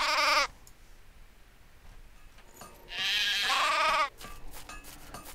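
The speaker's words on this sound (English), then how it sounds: "Fat and juicy sheep." Sheep bleating in the video game Craft The World, two loud wavering bleats, one at the start and a longer one a few seconds later, with quiet game ambience between them.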